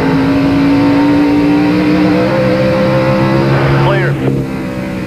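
A NASCAR race car engine at the 1998 Goody's Headache Powder 500 accelerating hard down a straightaway toward about 120 mph, a steady rising drone with a quick pitch sweep near the end, loud and close-miked.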